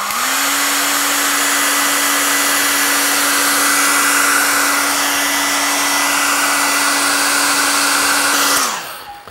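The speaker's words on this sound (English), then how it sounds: "get the old hair dryer out and give this a good bash" A hair dryer blows loudly and steadily for several seconds, then switches off near the end.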